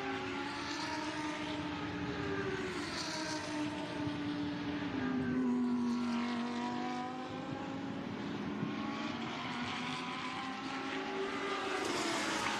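Lamborghini Super Trofeo race cars brake hard into the turn 14 hairpin at Shanghai, their engines droning loudly with rising and falling pitch as gears change, a continuous close roar with no voices.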